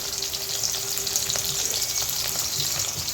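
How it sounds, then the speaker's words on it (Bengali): Cucumber slices fry in hot oil with a steady, close hiss and soft crackle, continuous and even, with no one talking. "ভাজা শুরু হয়ে গেছে।"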